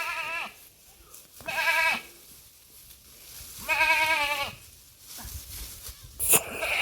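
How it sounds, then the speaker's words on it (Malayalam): Goats bleat on a village farm, several loud, quavering cries at intervals, close by, with faint rustling and background noise between calls. "ആട് കുത്താൻ നോക്കണേ."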